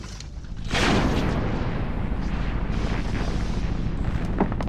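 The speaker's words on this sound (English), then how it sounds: "When it rolls over an anti-personnel landmine, it's heavy enough to detonate the explosive." A wind-powered mine-clearing device sets off an anti-personnel landmine, heard as a heavy explosive boom that fades into a long rumbling roar, loud and distant.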